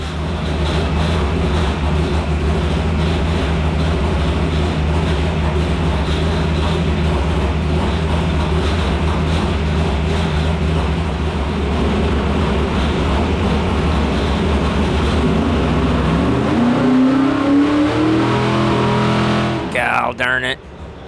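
Old-school small-block V8 engine idling steadily and loud for a long stretch while its idle screws are adjusted, with the pitch rising briefly near the end as it revs before cutting off.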